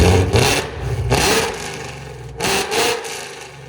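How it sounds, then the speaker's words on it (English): A 2016 Ford Mustang GT with a 5.0L V8 and headers revs in short bursts, three loud throttle blips rising and falling with a rumbling idle between them, close to the microphone. "go ahead and give it gas. That's how a Mustang should sound."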